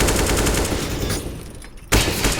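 Dense, rapid gunfire from a Counter-Strike: Global Offensive match on the Nuke map, loud bursts of rifle fire rattling for over a second, a brief drop to quieter rumble, then another sharp burst near the end.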